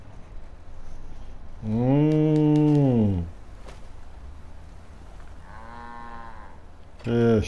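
In the Fallout 4 video game, a two-headed cow gives one loud, sustained moo, then a second softer, shorter moo a few seconds later, over low game ambience, with another loud sound cutting in at the end.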